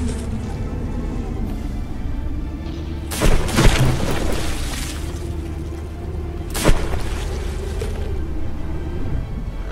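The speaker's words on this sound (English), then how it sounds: "that big volley, both ships firing pure HE shells" Heavy booming volleys of battleship guns firing high-explosive shells in the naval combat game From The Depths, two loud blasts several seconds apart over a constant rumbling roar of engines and sea.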